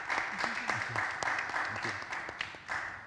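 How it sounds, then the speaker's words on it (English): Audience applause for a panel at a voting-barriers discussion, a steady patter of scattered clapping with voices talking over it near the front. "please let's give them a round of applause"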